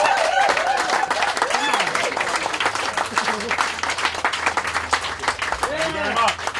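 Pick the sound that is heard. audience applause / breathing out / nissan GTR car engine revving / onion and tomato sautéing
audience applause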